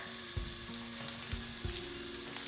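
Hamburger meat fries in a pot as the start of a quick chili, a dense even hiss of sizzling fat with a few dull thumps of a spoon, moderately loud and steady, nobody speaking.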